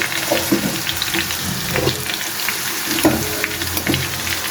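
Dal tempered with dried chillies sizzles in hot oil, a dense crackling fry with scattered pops and stirring clatter, close and loud, with no talking.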